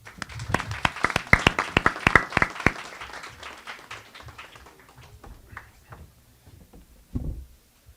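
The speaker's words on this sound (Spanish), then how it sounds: "a quien recibimos con un voto de aplausos" Audience applause welcoming a speaker at a university conversatorio: a burst of sharp hand claps over the first few seconds, thinning out to scattered claps and then fading into quiet room noise with a low thump near the end.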